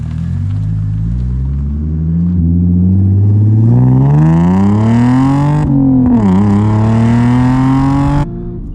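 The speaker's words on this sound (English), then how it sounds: "I prefer the supercharged noise over the exhaust noise" A supercharged Audi S4 engine revs up steadily, its whine and pitch climbing, dipping briefly, then holding loud and close before cutting back.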